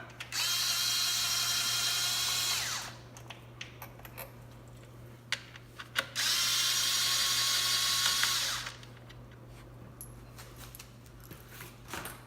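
A ratchet loosens 10 mm bolts on a Toyota FJ intake in two sustained bursts of rapid clicking, close and loud, separated by quieter handling clatter.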